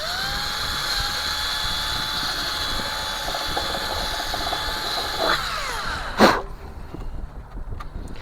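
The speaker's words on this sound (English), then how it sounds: "See, right over here is where we're going to drill." A small power drill runs steadily with a high whine while boring into a part of a 1:1000 scale U.S.S. Nimoy NCC-1934 starship model. The tone shifts near the end, then comes a brief sharp burst before the whine stops, with no speech.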